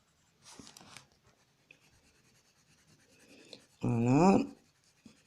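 Colored pencil shades across paper in short scratchy strokes, soft rubbing bursts with one louder, firmer stretch of pressing near the end; a voice briefly speaks.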